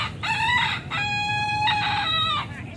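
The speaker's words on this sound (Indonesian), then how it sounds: "Kenapa meraknya berkokok?" A peacock at a zoo gives drawn-out honking crow-like calls, two or three loud tonal cries in a row, fairly close over faint background murmur.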